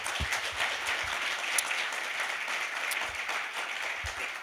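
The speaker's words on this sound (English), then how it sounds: "Can we please give Vu a very big round of applause?" Audience applause for a speaker at a startup conference session, a steady, soft patter of clapping from a roomful of about sixty people, heard at a distance.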